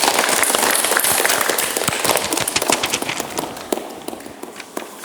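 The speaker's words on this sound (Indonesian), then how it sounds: "tepuk tangan untuk kita semuanya" Classroom applause in an automotive training lesson, a burst of many hands clapping that starts dense and loud, then thins into scattered individual claps as it dies away.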